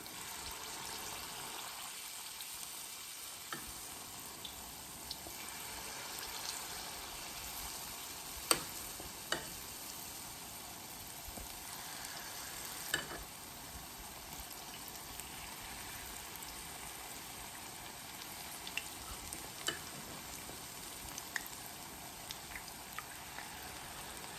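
Steady, soft crackling and sizzling of saltfish fishcakes frying in oil in a cast iron skillet, with scattered small pops throughout, continuous and fairly quiet.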